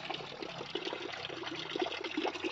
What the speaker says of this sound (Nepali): अर्ग्यानिक पानी चिसो पानी होइन एकदम जमिनबाट निस्केको पानी छ यहाँ